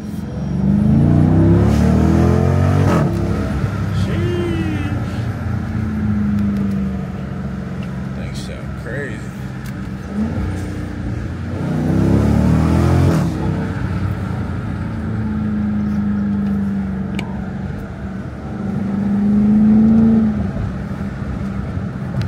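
A Dodge Durango's engine climbs in pitch, drops as it shifts gears, then climbs again, a loud and steady drone from inside the moving vehicle.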